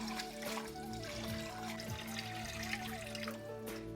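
Running water splashing and trickling into a bowl steadily, with faint clinks and swishing as lentils are rinsed by hand.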